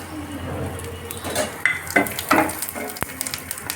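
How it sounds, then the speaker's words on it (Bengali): Whole spices for a Bengali banana-based dish (dried red chilli, cumin seeds, small cardamom, cinnamon pieces and cloves) go into hot oil in a pan, giving a light sizzle under scattered utensil clinks and stirring, fairly close. "এবার ফোড়নটা দিয়ে দিচ্ছি।"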